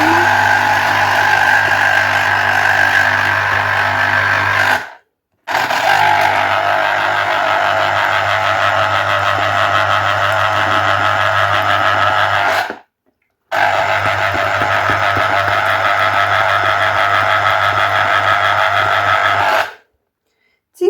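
An electric citrus juicer squeezes lemons in a kitchen with a loud, steady motor whir in three long runs, each cut off by brief pauses.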